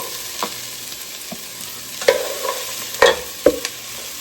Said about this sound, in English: I'm going to go ahead and add the carrots